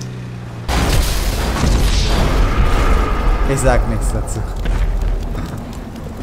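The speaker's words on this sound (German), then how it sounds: "Die Dinger explodieren ganz schnell." Explosions in the online game GTA 5 boom loudly one after another over a dense rumble of game noise, with someone talking over the blasts.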